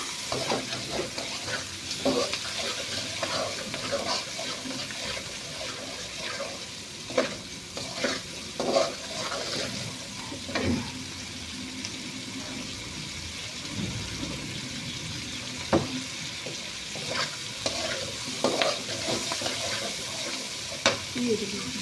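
Chicken masala sizzles in a pan while being sautéed, with repeated scraping stirs of a spoon over a constant frying hiss throughout.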